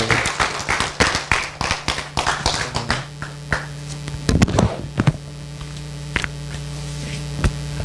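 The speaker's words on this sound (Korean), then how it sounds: "나오실 때 다시 한번 박수로 좀 환영해 주시기 바랍니다." At a church preaching service, an audience claps in welcome for the pastor, with dense, rhythmic clapping for about three seconds that thins to scattered claps over a steady electrical hum.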